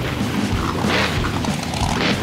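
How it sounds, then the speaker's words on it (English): Loud, continuous crunching and booming as a monster truck in BeamNG Drive rolls over and crushes cars, with a steady engine roar underneath. "He gets a nice crush on the crush cars."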